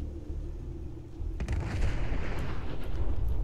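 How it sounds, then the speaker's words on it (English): A loud, close explosion in the video game Fallout 4 bursts out about a third of the way in, then a dense rumbling roar fills the rest without any talk. "we did not want to be near that when that exploded"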